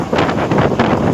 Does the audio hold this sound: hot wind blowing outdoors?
yes